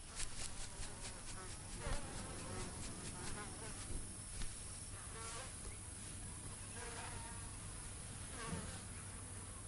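Flies buzz steadily and densely around kangaroos outdoors in the harsh sun, a close, continuous insect drone with several wingbeats swelling and fading.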